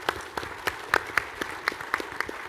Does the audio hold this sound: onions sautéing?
no